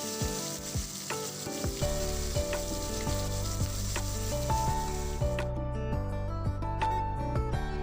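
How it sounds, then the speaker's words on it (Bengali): Prawns fry in mustard oil in a wok with a continuous loud sizzling hiss, faint clinks and stirring sounds, and a steady tonal background that fades as the sizzle drops off. "এবার আমি কড়াইয়ে 2 চামচ সর্ষের তেল দিয়ে চিংড়ি মাছগুলো লাল লাল করে ভেজে নেব"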